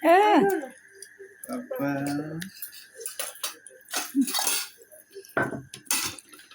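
Dishes and cutlery clinking as a father and daughter sit down to eat haleem and falooda at home, a few sharp clinks and scrapes between bursts of nearby family talk.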